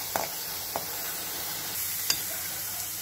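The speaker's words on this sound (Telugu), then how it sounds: "ఆనియన్ బాగా వేగిందండి." Onions frying in a pan with turmeric added, a soft steady sizzle running throughout with a few light stirring scrapes and taps, close and moderately quiet, no talk.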